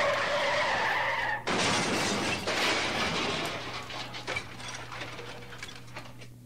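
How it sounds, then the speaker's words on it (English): A car crash in a video game: skidding and a harsh grinding, shattering impact that cuts in loudly, then clattering debris fading down into a low hum. "Ooh, a car crash."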